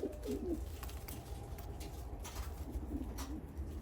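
Müsevet fancy pigeons cooing softly in a loft, low throaty coos repeating in short bursts near the start and again toward the end, over a steady low background rumble.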